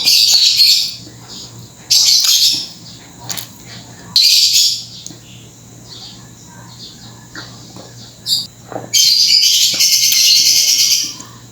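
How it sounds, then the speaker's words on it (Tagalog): Loud, harsh bird squawks burst out repeatedly in long screechy bouts, with quieter calls and a low steady hum between them. "Ang ingay ng ibon."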